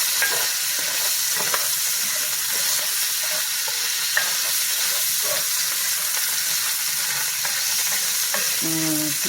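Bacon sizzles steadily in a hot pan, a loud continuous crackling hiss with occasional sharper pops, ending with a brief clatter near the close.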